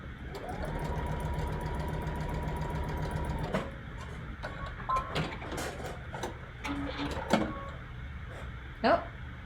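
A sewing machine stitching a seam runs in a steady, close mechanical whir for a few seconds, then stops, followed by scattered clicks and handling noises as someone works at it.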